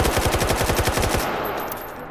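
A compact AK-74U rifle fires a rapid full-auto burst in the VR shooting game H3VR, loud sharp shots in an even rhythm for about a second before stopping, leaving a quiet tail.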